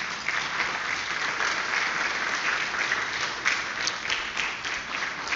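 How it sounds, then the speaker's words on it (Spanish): A church congregation applauds during a Spanish-language sermon, a dense, steady wash of many hands clapping together that holds at an even, fairly loud level for about five seconds with no voices over it. "Pónganse de pie y denle un aplauso a nuestro Dios."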